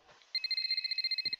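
A telephone rings in the Vampire: The Masquerade video game, a rapid trilling electronic ring of about a dozen quick pulses in one steady burst, fairly clear, followed by a brief soft thump at the end.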